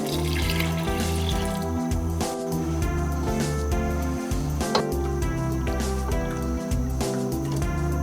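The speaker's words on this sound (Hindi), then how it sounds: "2 गिलास पानी शामिल करेंगे इसमें।" Water is poured into a pan of jaggery while making jaggery rice, a continuous splashing, trickling pour that runs steadily and close throughout.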